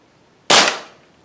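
A single sharp, loud crack from a Feinwerkbau FWB 65 air pistol, heard close and alone, with a quick decay after the shot.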